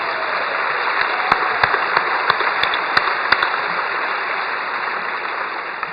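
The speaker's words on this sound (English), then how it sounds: "Give them a round of applause as well." Audience applause at a choral festival finale concert, steady dense clapping that fills the hall for the whole stretch, with a few sharper individual claps standing out above the wash.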